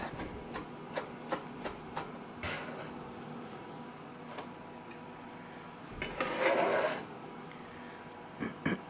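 A knife chops vegetables on a cutting board during home meal prep, a quiet series of sharp, evenly spaced taps at a moderate pace, followed by a brief rustle and a few more scattered knocks.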